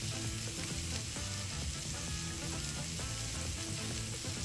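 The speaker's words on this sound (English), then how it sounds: "Love to hear that sizzle." Constant crackling sizzle of French toast frying on a 22-inch Blackstone griddle, loud and close, with no talking.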